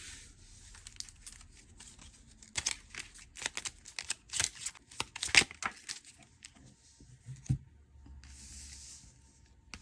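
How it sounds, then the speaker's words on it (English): Tarot cards are pulled from a deck and handled close by, making a run of crisp slides, flicks and papery crinkles in uneven bursts, followed by quieter rustling. "So I'm going to pull from these cards."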